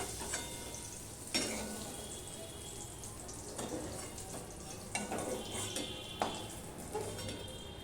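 Bitter gourd fries in oil with a little turmeric in a pan, a quiet steady sizzle broken by several sharp clinks and scrapes of stirring.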